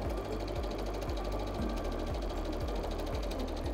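A sewing machine runs at a fast, steady rhythmic chatter, stitching back and forth on felt to secure an elastic, loud and close with no talking.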